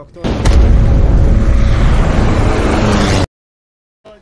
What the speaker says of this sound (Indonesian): Di tengah ledakan kapal